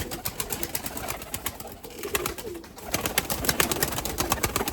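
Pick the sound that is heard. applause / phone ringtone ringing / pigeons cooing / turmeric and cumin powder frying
pigeons cooing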